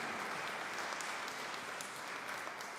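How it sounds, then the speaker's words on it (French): Faint, distant congregation applause rises in a church during a Sunday Mass at Sainte-Trinité parish in Gatineau, a soft steady patter of clapping heard from afar. "On l'applaudit, s'il vous plaît."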